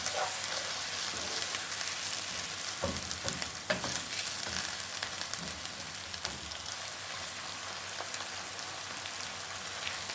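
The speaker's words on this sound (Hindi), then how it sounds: "अब इसमें 2 अदद मीडियम साइज़ के टमाटर, इसके छोटे छोटे टुकड़े करके वो डाल देंगे। अब इसको थोड़ा सा पकाएंगे।" Chopped tomatoes cooking in a pan with paste for baingan bharta, a steady rain-like crackling sizzle with occasional stirring knocks, close and even throughout, without speech.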